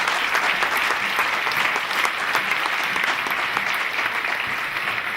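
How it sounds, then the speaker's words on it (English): Sustained audience applause fills the hall at a 2013 conference tribute to Chinua Achebe, an even, continuous wash of many clapping hands with no clear pauses. "Please give him another round of applause."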